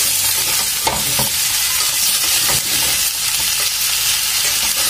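Cauliflower florets and potato pieces frying together in a karai, a loud continuous sizzle close by with frequent clattering stirs and scrapes of the spatula throughout.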